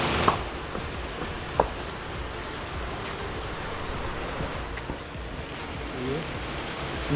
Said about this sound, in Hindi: देखिए यहाँ से पानी आ रहा है।